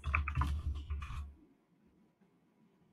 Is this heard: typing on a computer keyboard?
yes